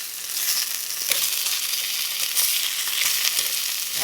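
Wild rice being stirred in a pan on an electric stove, a steady bright sizzle with soft scraping strokes as it is moved around, close and alone without talk.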